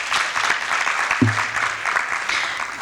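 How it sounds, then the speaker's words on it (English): Audience applause for Professor Dulani at a high-level panel discussion on citizen evidence, a steady, dense wash of clapping that fills the whole stretch at fairly close range, with a brief low voice murmuring underneath midway. "Another round of applause for him."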